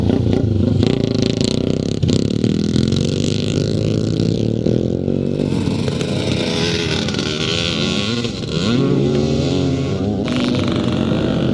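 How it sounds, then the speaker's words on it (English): Classic motocross motorcycles race at a Scottish event in Penrith, including a Clues Stroker, their engines roaring and revving loudly and continuously, with pitch rising and falling as bikes pass close by. "fourth, the man we are looking at, is Keith Barnes on that Alan Clues stroker machine"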